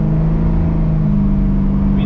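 Swapped-in engine of a Pontiac Firebird idling steadily at close range, a loud, even low rumble with no change in pitch across the short stretch.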